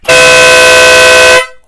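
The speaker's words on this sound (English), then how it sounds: "Here it is. Horn." Denali Sound Bomb motorcycle horn blasting once, a very loud, bright, brassy honk held steady for over a second before cutting off sharply.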